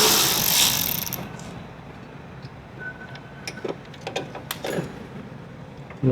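A ratchet turning a 10 mm bolt on the fender of a 2020 Honda Odyssey, a few quiet clicking bursts with faint metallic handling noises and a rustle at the start.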